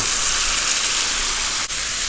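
Broccoli and mixed vegetables hit a hot pan of noodles and oyster sauce, setting off a loud, steady sizzling hiss up close, with a brief sharp crackle near the end.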